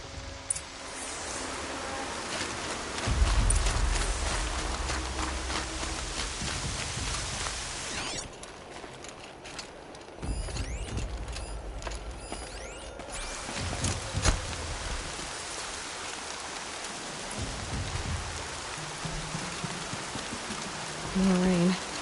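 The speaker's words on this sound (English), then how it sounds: "More rain. My boots will get damp." Rain falls steadily in a video game, a soft continuous hiss of drops on surfaces that eases and returns, with occasional low thuds and faint rustling mixed in.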